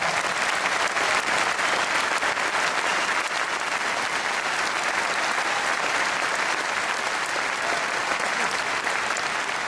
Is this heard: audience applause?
yes